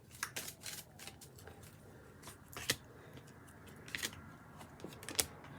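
Tarot love cards riffle and slap as they are shuffled by hand, several soft papery bursts at uneven intervals, close but faint in a quiet room.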